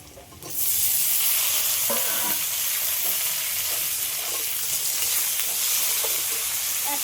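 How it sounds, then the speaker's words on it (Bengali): Onions and tomato hit a hot pan and break into a loud, steady frying hiss that carries on without pause, with light stirring clatter underneath. "পেঁয়াজটা একটু ভালো করে ভেজে নিয়েছি এবার এর মধ্যে দিয়ে দেবো টমেটো"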